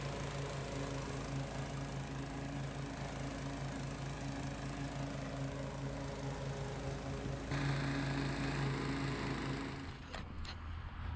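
A lawn mower drones steadily and nearby, mowing grass on a cool day. Its engine hum holds a constant pitch, rises briefly near the end and then cuts off, with no speech.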